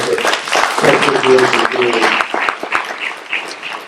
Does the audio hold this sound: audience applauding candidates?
yes